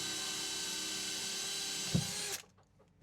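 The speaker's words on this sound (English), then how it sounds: "And now go through into the engine room and drill a hole through with this one" A power drill bores a hole through into an old boat's engine room, a steady loud whining hum that strains briefly, then cuts off abruptly into near quiet.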